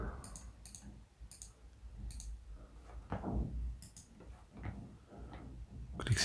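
Computer mouse clicks while working in a Google Sheets spreadsheet, a few sharp, close clicks spaced irregularly over soft room noise and low handling sounds.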